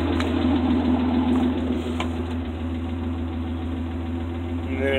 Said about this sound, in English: One of the best starting carbureted engines I've ever started in my life.